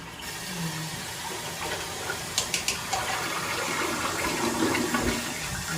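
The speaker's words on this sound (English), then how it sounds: "we're gonna go ahead and rinse this down with a good flush" A toilet flushes to rinse homemade eco-friendly cleaner from the bowl, a steady rushing gush of water with some gurgling partway through, close and fairly loud with no talking.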